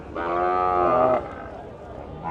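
A single loud, close moo from a cow lasts about a second at a busy cattle market selling heifers and milk cows in Chaubaria, followed by quieter background bustle.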